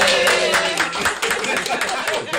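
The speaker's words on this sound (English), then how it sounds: "I feel like I should applaud." A small group claps by hand at close range, quick uneven slaps that fill the short moment, with faint voices mixed underneath.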